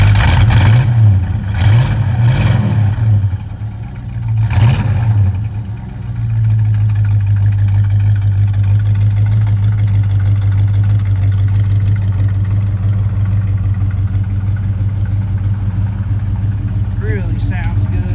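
1969 Chevrolet Chevelle SS cranking over with several sharp revs and blips, then dropping into a steady, deep, lumpy idle that rumbles on loudly, with faint talking near the end.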